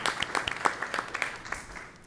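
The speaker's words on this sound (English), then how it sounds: "Let's give them another round of applause for their" Scattered applause from a small crowd at a board of education meeting, a patter of claps at moderate distance that stays steady for a couple of seconds.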